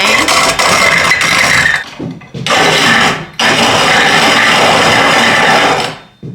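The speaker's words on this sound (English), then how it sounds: "This is a stone mill. I've had it like almost 50 years. They're stones. You can adjust the grind." A hand-cranked stone mill, nearly fifty years old with adjustable grinding stones, grinds grain with a loud, close, continuous gritty rasping. Two short pauses break the grinding, then it resumes and fades out at the end.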